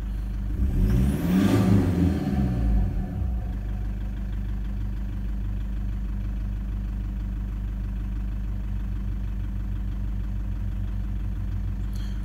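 A car engine idles steadily while warming up, with a slightly tappy note linked to an injector issue. A brief louder rev near the start gives way to a constant, close, even hum with no talking.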